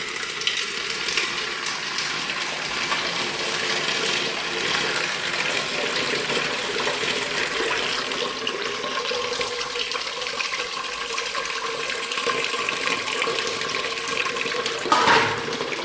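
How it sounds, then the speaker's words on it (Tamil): Steady running water from a tap pours continuously into a container, a broad hiss that stays even throughout, with a brief clunk near the end. "இப்போ தண்ணி போகுதுன்னு நினைக்கிறேன்"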